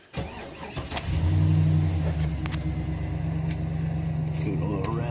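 The engine of a 2008 GM Sierra/Silverado pickup, under repair for evap and knock sensor codes, cranks and catches, then settles into a steady close idle. A voice speaks briefly over it.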